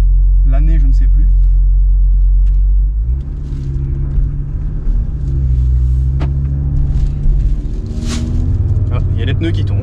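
An Audi RS3, a 2018 model with 400 hp, idles while warming up, a deep steady rumble that stays loud and close throughout as a voice talks over it.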